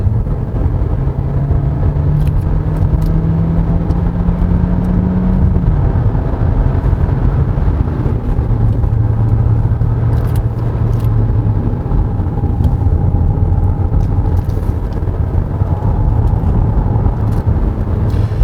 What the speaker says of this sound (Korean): 이 141마력짜리의 1350kg의 어, 하이브리드 차는 어떻게 움직일까 출발해 보겠습니다